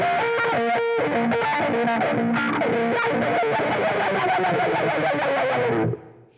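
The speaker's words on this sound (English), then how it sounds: "And then a bunch of noise with the wah." Electric guitar noise run through a wah pedal with heavy distortion, sweeping and squealing continuously in a dense, loud wash before cutting off abruptly and ringing out.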